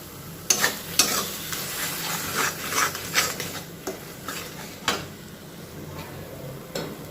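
Spices and mashed eggplant for begun bharta are stirred and scraped in a pan, giving soft, irregular scraping strokes over a faint steady sizzle, close and alone.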